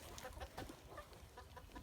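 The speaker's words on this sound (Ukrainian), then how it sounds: "це наш такий маленький голошейка. Буде півником." A small naked-neck chicken, a young cockerel, clucks in short, soft repeated calls amid faint farmyard background noise, quiet and fairly close.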